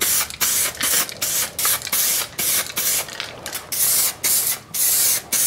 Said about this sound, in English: We're just going to spray epoxy on all the exposed metal